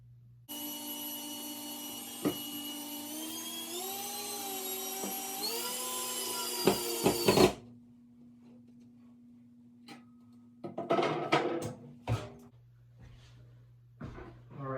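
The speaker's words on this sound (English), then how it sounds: "I'm going to put my screws in" A power driver whines steadily for about seven seconds, its pitch shifting as screws are driven into a wall to mount a floating shelf, followed by a few short clicks and rattles.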